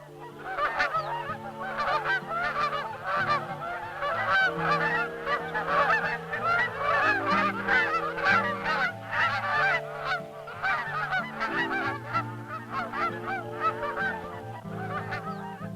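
A large migrating flock of Canada geese honks continuously at a sanctuary in fall, a dense overlapping chorus of calls, steady and loud throughout.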